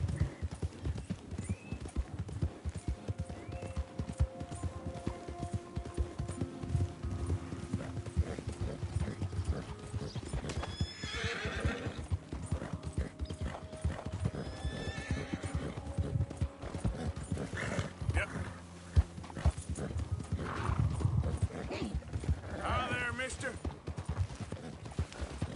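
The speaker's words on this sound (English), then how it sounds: "I've nearly killed this horse like 5 times already." Horse hooves clop steadily in the Red Dead Redemption 2 video game, with occasional whinnies breaking through, while a person talks over the game sound throughout.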